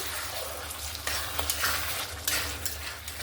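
Potatoes coated in spices are stirred in a hot pan, a steady sizzle broken by several scraping strokes of a spatula, close and moderately loud with no talking.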